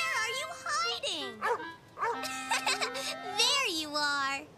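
A cartoon puppy yips and barks in short bright bursts between cheerful voices, with animated characters talking over and around the barking.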